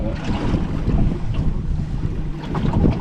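Low, churning water wash and gusty wind noise fill the clip steadily, with soft sloshing against a fishing boat's hull on the Solent, UK, and no voices.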